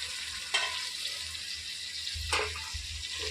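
Tomato, ginger-garlic paste and spices fry in oil for a chicken dum biryani, a steady soft sizzle with two brief clattering stirs of the pan.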